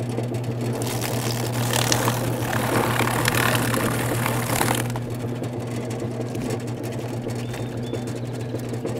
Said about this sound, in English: So that's how the drum plucker works, this spinning plucker.